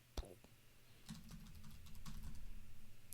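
Soft, rapid keyboard typing, with clicks close by and growing busier toward the end.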